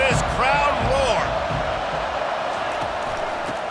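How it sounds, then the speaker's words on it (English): Stadium crowd roaring in EA Sports College Football 25 at a Notre Dame game, a dense, loud wash of cheering with whoops that holds steady throughout, with shouted voices rising above it near the start. "listen to this crowd roar"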